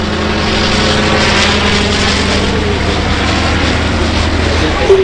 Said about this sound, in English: Really agile for such an old aircraft.